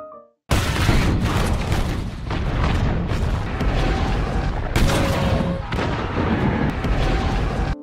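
Naval artillery bombardment in a war film, a dense continuous roar of booms and blasts after a brief quiet start, with heavy low-end impacts and a few sharp bursts rising above the din.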